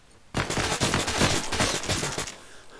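Flashbang grenade detonating indoors during a tactical raid on a drug and human trafficking den, a sudden loud blast followed by a dense, crackling burst of rapid pops lasting about two seconds before cutting off.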